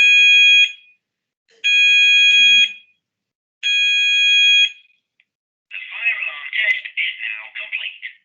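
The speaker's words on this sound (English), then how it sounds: "Fire alarm test is now complete." During a fire alarm test, three long steady electronic alarm tones sound about a second each, separated by silences, followed by a recorded voice announcement.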